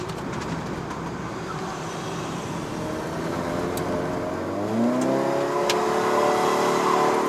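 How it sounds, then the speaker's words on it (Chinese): Proton Iriz 1.6L car engine climbing uphill around 4000 rpm, a steady droning hum heard from inside the cabin with rising tone as revs build, moderately loud with road noise underneath. "基本上这辆车4000转左右已经是很足够去推动这辆车，不用太高转。"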